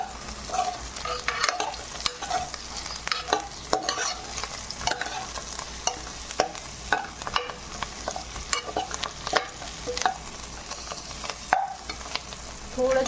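Stuffed brinjal with its masala and coriander being stirred in a pan, with a continuous frying sizzle under sharp, irregular clanks and scrapes of a spatula on metal, close and fairly loud, no talking.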